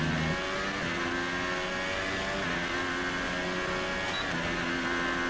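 F1 car engine in F1 2018 at the Brazil qualifying, a steady high-pitched whine with stepped gear changes as it pulls away, close and continuous without talk.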